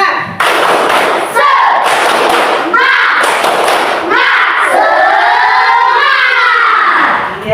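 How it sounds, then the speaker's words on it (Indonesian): Schoolchildren in a Hindu religious education class perform a rhythmic spirit clapping chant, loud bursts of group claps alternating with shouted chanting voices, close and energetic. "Yuk biar tambah semangat kita tepuk semangat ya"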